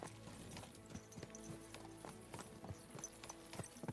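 Horse hooves clip-clop steadily on a hard floor as the animal is led into a stable in the video game Kingdom Come: Deliverance 2, irregular close thuds over a busy ambient background.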